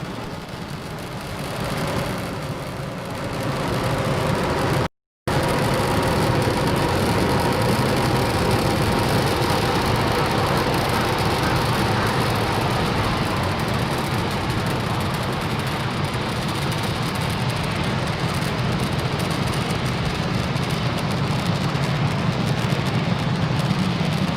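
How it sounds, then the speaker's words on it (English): Falcon 9 rocket engines roar during launch ascent after clearing the tower, a steady, dense, loud rumble that holds without a break for the whole stretch, with no voices. "Falcon 9 has cleared the tower and is currently throttling down to prepare for max Q"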